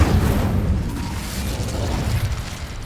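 Incendio fire spell cast in Hogwarts Legacy: a dense, sustained whooshing burst of flame with rumbling low crackle, loud and continuous for a few seconds.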